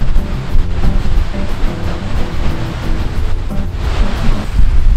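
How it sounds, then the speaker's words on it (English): A steady, loud roar of rushing water, dense and continuous from a nearby waterfall in Iceland, with no voices over it. "Are we going to go behind this waterfall?"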